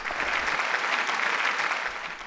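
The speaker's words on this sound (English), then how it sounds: "please give yourselves a round of applause" An awards ceremony audience breaks into steady applause, a dense, even wash of many hands clapping that holds throughout and eases slightly at the end.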